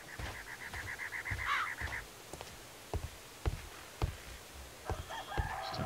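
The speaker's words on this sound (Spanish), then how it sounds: "Como me mola el gallo, tío. Cuando canta." A rooster crows in the Sherlock Holmes Crimes & Punishments video game, a fairly faint, slightly distant call heard twice amid soft ambient farmyard noise and scattered thumps.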